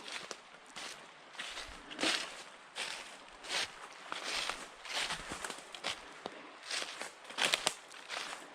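Footsteps walking over wet ground near an old river lodge: a slow, faint series of soft squelching, crunching steps, close to the mic, with no talk.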